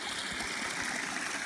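Snowmelt spring water flows and trickles steadily over rocks near a mountain lake campsite on a brisk morning, a close, continuous babbling stream with no voices.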